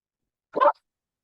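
A dog gives one short, sharp bark indoors, heard alone against silence, moderately loud and close.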